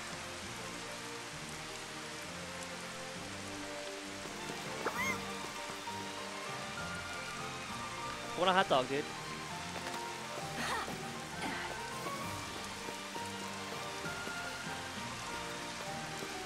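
Steady rain falling in the Final Fantasy XV Platinum Demo video game, a constant soft hiss throughout with someone talking over it and brief louder game sounds midway.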